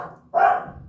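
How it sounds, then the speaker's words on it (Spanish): A dog gives a single sharp bark close by, loud and abrupt, cutting through a quiet indoor background. "Ese perro ladrador"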